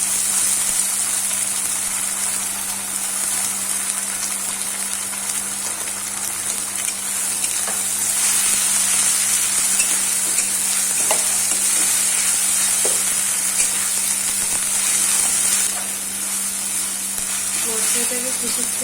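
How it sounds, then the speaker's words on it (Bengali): Spice paste for chicken kasha frying steadily in a pan, a continuous loud sizzle with faint stirring scrapes throughout and a low steady hum underneath. "মশলাটাকে কিছুক্ষণ ভেজে সামান্য নুন"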